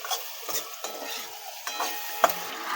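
A spoon stirs chilli chicken coated with pepper and Kashmiri chilli powder in a pan, making repeated soft scrapes and clinks over a low sizzle, with one sharp metallic tap near the end.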